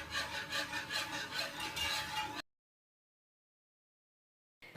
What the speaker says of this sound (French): je vais mélanger constamment jusqu'à épaississement de ma crème